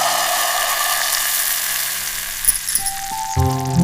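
A blended mixture sizzles steadily in a small pan on a mini kitchen stove, close and continuous, with a few light clinks of utensil on metal near the end.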